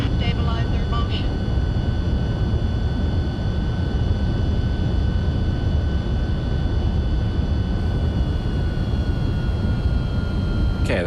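A Martinair MD-11F's engines in X-Plane 12 settle back from takeoff thrust to climb power, a loud, steady broadband roar with a thin whine above it. The sound runs continuously throughout, with a voice speaking over it.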